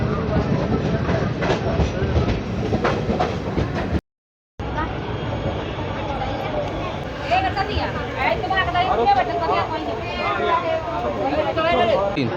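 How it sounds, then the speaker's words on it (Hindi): A passenger train on the Katihar to Tatanagar route rumbles steadily along the rails, with faint clickety-clack and murmuring voices over the constant noise. The sound cuts out briefly near the middle. "कटिहार से 125 किलोमीटर की दूरी को तय करने के बाद निर्धारित समय से आधा घंटे की देरी से अपनी ट्रेन पहुंच चुकी है"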